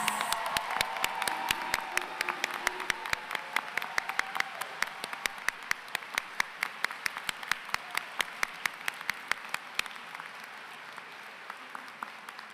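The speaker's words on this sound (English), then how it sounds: "So let's give the class of 2022 a big round of applause." Family and friends at a Penn State Abington fall 2022 commencement applaud the graduating class: a broad wash of clapping with crisp, evenly spaced claps standing out above it, steady for about ten seconds before thinning out.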